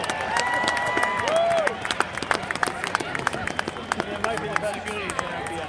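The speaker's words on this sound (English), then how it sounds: "another huge Bronco round of applause for your 2016 senior class" Stadium crowd applauding and cheering for a college football senior class at a Bronco home game, a dense wash of clapping and shouts with voices and whistles mixed in, fading somewhat after the first couple of seconds.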